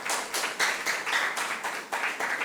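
A small school audience at a junior high quiz competition claps in choppy, rhythmic bursts, with hands striking in uneven pulses over a couple of seconds.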